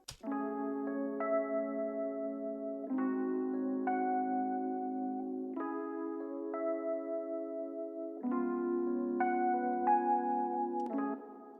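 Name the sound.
UAD Electra 88 keys preset playing the loop chords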